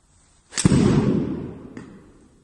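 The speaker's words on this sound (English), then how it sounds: "Okay, so we've hit the shot." A golf club strikes a ball during a swing at a practice facility, one sharp close impact followed by a whooshing, decaying rush and a faint second click.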